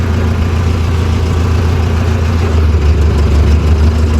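A Mahindra Novo 605 tractor engine drones loud and close in high fifth gear, hauling a fully loaded trolley, its deep, steady roar holding constant throughout.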